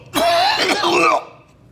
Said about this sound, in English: we cough out the mouth